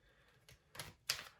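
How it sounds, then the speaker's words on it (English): Tarot cards are shuffled by hand, with three short papery riffles that grow louder with each burst, close up in a quiet room. "I'm just going to quickly shuffle these cards"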